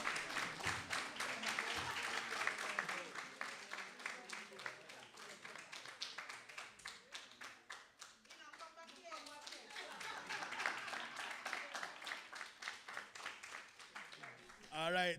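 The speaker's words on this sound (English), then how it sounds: "Clap till we come back." An audience at a Patwa dialect debate claps in a fast, rhythmic burst that thins and swells, individual hand claps distinct, with voices speaking and calling out over the clapping.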